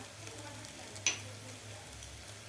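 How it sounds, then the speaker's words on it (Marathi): Masala fries in a pan for Khandeshi black-masala khichdi, giving a faint, steady sizzle with one brief soft clink near the middle. "आपला मसालासुद्धा व्यवस्थित फ्राय झालेला आहे"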